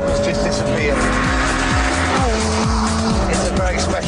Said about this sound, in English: But just listen to that engine and all those problems just disappear.